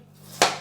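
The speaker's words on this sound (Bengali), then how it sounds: "এবার পানি ফলগুলো আমি কেটে নেব" A single sharp knife chop through water chestnut lands on a cutting board, crisp and close, after a brief quiet moment.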